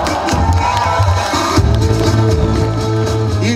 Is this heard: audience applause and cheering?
yes